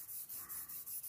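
Paint being rubbed onto a surface with a baby wipe for a distressed look, giving soft, close swishing strokes in a quick, regular back-and-forth rhythm, quiet and alone.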